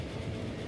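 A steam-era train in the Transport Fever 2 railway simulation game rumbles along with a steady, dense low rolling noise and faint clickety-clack, continuous and fairly quiet throughout.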